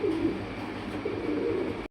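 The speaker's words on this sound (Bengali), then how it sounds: "এখানে রয়েছে একজন ময়ূর কবুতর" A peacock pigeon, the fantail-type breed also called laksha, gives low, soft cooing in a couple of rolling phrases, close and fairly clear, ending in a brief cutoff.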